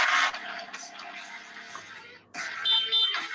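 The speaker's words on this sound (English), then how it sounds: "The air horn." Harsh, buzzy air horn blasts, close and loud, in two bursts separated by a brief dip.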